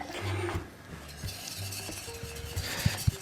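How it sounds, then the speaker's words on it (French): A sauce for duck à l'orange being stirred in a pan, with repeated scraping strokes and soft clinks over a faint sizzle, ending in a couple of sharper knocks. "nous avons notre petite sauce que nous allons mélanger tout de suite"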